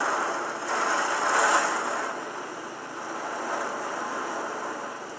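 Hurricane Helene rain lashes against house windows and streams down the glass: a continuous broad rushing hiss that swells and eases in slow surges, heard from indoors with no one speaking.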